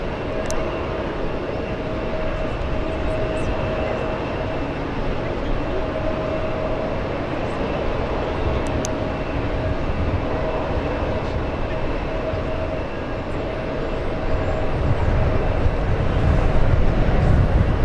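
A British Airways Boeing 777 starts its takeoff roll on runway 28 at SFO, heard as a steady, loud jet-engine roar with a sustained whine that swells toward the end.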